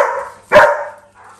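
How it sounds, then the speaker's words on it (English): An excited puppy lets out a single sharp, loud bark close by, set between softer whining yips before and after. "So got the treats and some excited puppies."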